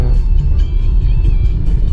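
A Kia Carnival engine held in low gear on a winding riverside road, a steady loud low rumble with a slight wavering drone, close and without talk.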